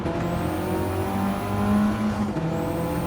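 Mitsubishi Evo racing in Gran Turismo 7, its engine a steady, loud, buzzing drone with a slight swell and dip in pitch as it holds speed. Faint tire noise sits under it, and no one speaks.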